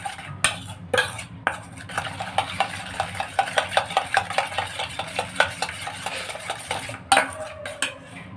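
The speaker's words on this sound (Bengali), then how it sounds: "এবার আমি এর মধ্যে অল্প অল্প করে চিনিটা মিক্স করব।" Sugar is mixed into beaten eggs in a bowl for a steamed sponge cake, giving steady rhythmic scraping and clinking of a utensil against the bowl, close and continuous with brief pauses.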